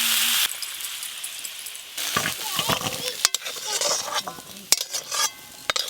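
Potato and jackfruit frying in a pan, with bursts of sizzling and stirring scrapes that come and go, close and fairly loud, after a brief opening of louder noise.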